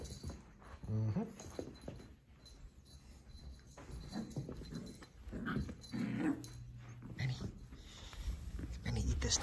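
A puppy in the background growls and whimpers while tearing at something, with scuffling and gnawing noises rising and falling across the stretch.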